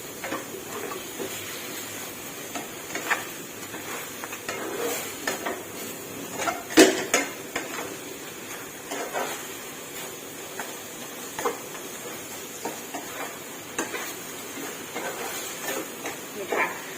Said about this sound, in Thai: ผัดให้หมูสุกค่ะ